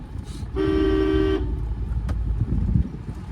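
A long, steady car horn blares from an oncoming I-20 hatchback, loud and close for about a second, over the rumble of traffic on a road shared with bikes and scooters.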